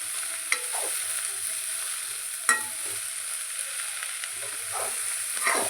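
Spinach, peas and potato sizzle in hot oil in a pan while being stirred, with a steady frying hiss broken by a few sharp scraping clacks of the spoon.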